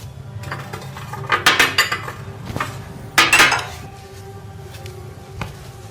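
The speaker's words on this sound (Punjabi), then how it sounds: "ਸੰਦੀਪ ਆ ਲੈ ਜਾ ਭਾਂਡੇ" Dishes and cutlery clatter and clink in two short bursts of handling, then quieter knocks as things settle, close by with no talking.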